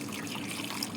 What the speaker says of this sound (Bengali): বন্ধুরা আবার দুবারা ধুচ্ছি এটা জল দিয়ে